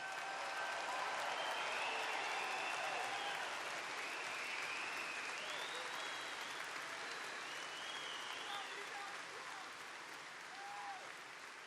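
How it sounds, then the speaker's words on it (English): Large convention crowd at an NRA event in Atlanta gives veterans sustained applause, a dense, distant-sounding roar of clapping with scattered cheers and whistles, gradually easing toward the end. "we want to give them a big, big, beautiful round of applause."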